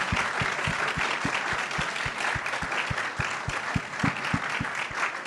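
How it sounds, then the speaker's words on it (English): A crowd at an entrepreneurship kickoff event applauds a panel with sustained, dense clapping. A few sharper claps stand out in a regular pulse beneath the broad roar. "Big round of applause for our awesome panel."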